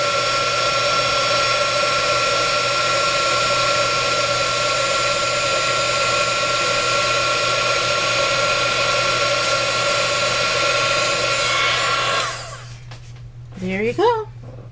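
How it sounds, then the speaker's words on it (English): A handheld heat gun blows hot air over embossing powder on card stock, a steady loud whooshing roar with a constant hum that stops abruptly near the end, followed by a short vocal sound. "My heat gun heats up pretty quick"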